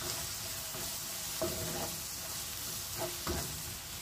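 Bean masala curry with garlic and salt being mixed in a pan, a soft steady sizzle broken by a few scraping stirs of a spoon, fairly quiet.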